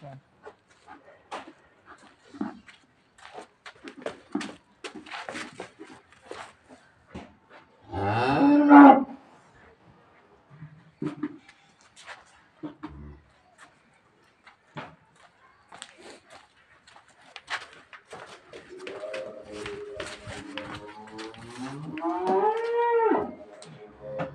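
A young two-tooth Holstein Friesian dairy cow on a dairy farm lets out one loud, close moo, then a longer drawn-out moo later, with scattered farm clatter and a faint voice between the calls.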